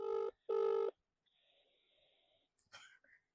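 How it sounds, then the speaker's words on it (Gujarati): A phone call's ringing tone, two loud electronic rings close together, then a faint lingering tone and a brief click-like burst at the end, with no speech over it. "રિંગ જાય છે."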